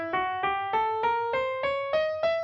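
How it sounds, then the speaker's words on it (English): A traditional diminished scale climbs steadily in alternating whole and half steps, eight clear bright instrument notes evenly spaced and struck one after another, each with a sharp attack and short decay, played alone without talk. "The traditional diminished scale sounds like this,"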